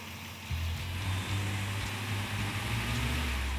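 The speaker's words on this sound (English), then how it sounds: "All I hear is valve train now." A Chevy gasser race car engine idles steadily up close, a constant low hum layered with a fine mechanical ticking chatter of valve train noise.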